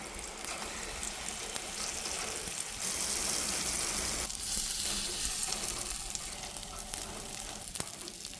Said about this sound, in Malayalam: എഗ്ഗ് എണ്ണയിലേക്ക് ചേർക്കാം.